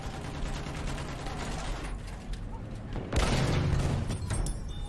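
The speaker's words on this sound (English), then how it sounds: "we're in a tank, mowing down people with the cannon." A tank cannon and small-arms gunfire in the video game Battlefield make a steady dense rumble of battle noise, with a louder burst of blasts partway through.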